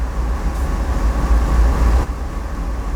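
CSX 8221 locomotive in Train Sim World 5, a loud, steady low rumble of the engine idling or moving, continuous with a slight shift partway through.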